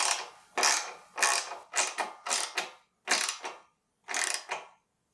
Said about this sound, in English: We want to tighten this, that bolt I just showed you